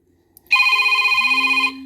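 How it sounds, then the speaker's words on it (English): An emporia SMART.6 5G smartphone rings loudly and close by, a single warbling electronic ring burst lasting about a second. A steady lower tone lingers after the ring stops. "if I ring the phone next"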